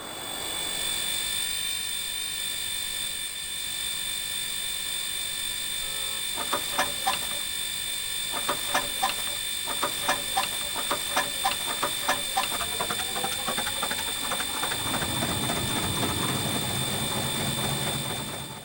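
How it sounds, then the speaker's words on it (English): The Corris Railway narrow-gauge locomotive in Train Simulator is cranked in a series of rapid, evenly spaced pulses until its engine catches and settles into a steady, loud running rumble over a constant mechanical whine. "you need to press it constantly until the engine fires up"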